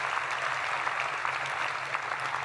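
An audience applauding at a National Space Council event at NASA's Marshall center in Huntsville, Alabama, with dense sustained clapping from a large crowd at a steady even level.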